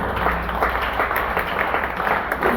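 A lecture audience at a medical talk on hypertension claps for themselves, a steady patter of applause from a moderate crowd lasting a few seconds.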